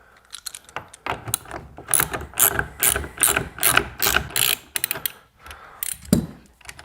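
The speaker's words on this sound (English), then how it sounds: "So now I'm going to go ahead and take this bolt off and get the steering wheel off." A ratchet loosens the steering wheel bolt on a boat, a rapid series of sharp clicking bursts in uneven runs, close and fairly loud, with no voices.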